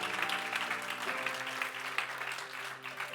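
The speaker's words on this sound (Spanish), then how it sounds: "Den ese aplauso fuerte a Cristo." A church congregation claps for Christ during a Spanish-language worship service, a dense continuous wash of applause that holds steady throughout, with faint music or voices tones underneath.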